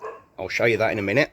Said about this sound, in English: that's my dog's barking for some reason